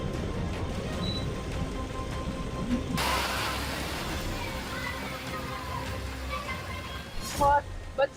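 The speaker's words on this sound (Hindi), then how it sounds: "यहाँ पे बारिश बहुत ज्यादा हो रखा है" Heavy monsoon rain pouring onto a waterlogged street in Sangam Vihar, Delhi, a steady broadband hiss that grows denser partway through, with people talking over it and a few sharp knocks near the end.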